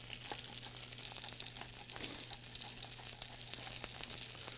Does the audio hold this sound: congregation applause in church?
no